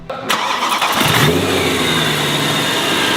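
A rebuilt supercharged BMW M3 engine catches and fires up on its first proper start, revving briefly before settling into a strong, loud, steady running rumble close by.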